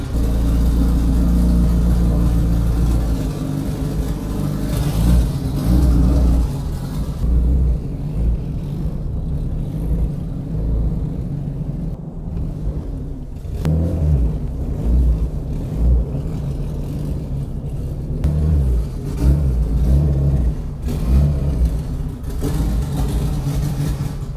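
A Honda Civic engine runs loud and close, revving unevenly at first, then settling into a rough, rumbling idle with occasional bursts of throttle.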